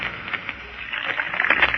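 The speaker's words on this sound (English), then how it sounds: "that sound is the fizzing and bubbling of sparkling Spur, the delicious new Canada Dry drink" Canada Dry Spur soda fizzes and bubbles in a continuous hissing effervescence that swells slightly over a short moment, close and alone, with an old radio-broadcast tone.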